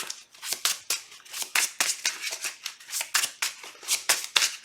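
Playing cards riffled and shuffled close up, a rapid run of crisp, dry flicking bursts repeating in quick rhythm.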